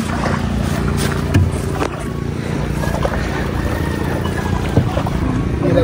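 Continuous low drone of a boat engine running close by on a shell-gathering trip, with wind and splashing water over it and no clear talk.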